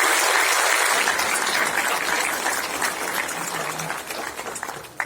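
Audience applause fills a hall at a World Water Day event welcoming India's Prime Minister Narendra Modi, a dense, steady clapping that starts loud and slowly tapers over about five seconds with no voices on top.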